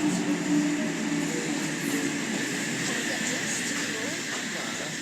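A four-car Sydney Trains Oscar electric train arrives at a platform, rumbling steadily with a broad hiss of rolling wheels and air, continuous and fairly loud throughout.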